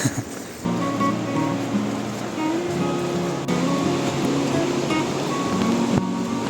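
A calm, clear mountain river near a village in the hills, its water making a steady, continuous rushing wash close by with no pauses.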